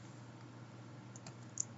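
Keys tapped on a computer keyboard while typing Turbo Pascal code, a few faint, sparse clicks near the end over a steady low hum.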